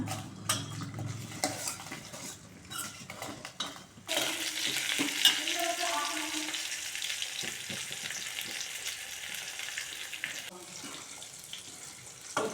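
Onions, curry leaves and dried red chillies fry for a field bean gravy, with utensil clinks and pan knocks first, then a steady loud sizzle that runs under intermittent stirring for several seconds.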